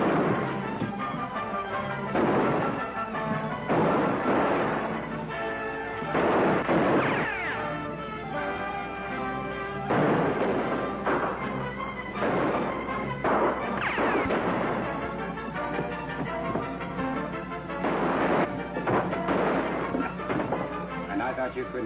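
Gunfire rings out in a 1940s western film shootout, a rapid run of sharp shots and crashes in repeated bursts, mixed with music, shouting and dialogue.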